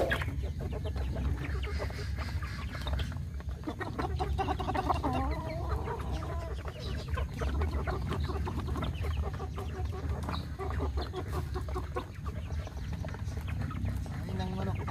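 Chickens cluck and murmur throughout at close range, a busy stream of short fowl calls, with a person talking over them at times.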